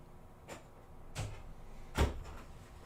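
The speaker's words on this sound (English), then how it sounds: "So we will open the door for Eileen the cat." A house door being opened to let a cat back inside, heard as three short bumps and rattles spaced about a second apart over quiet room noise, with no talking.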